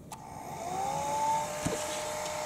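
A Panasonic EH5305P Ionity hair dryer runs with a steady, moderate airflow whoosh and a faint rising motor whine, close by and alone, with one small click partway through.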